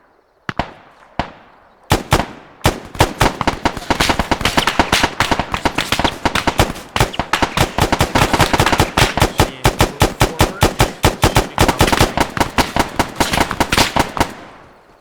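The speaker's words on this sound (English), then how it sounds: "This guy is actually providing suppressive fire." Arma 3 firefight with suppressive fire, loud, dense bursts of rapid gunshots hammering almost continuously after a few scattered opening shots, close and sharp throughout.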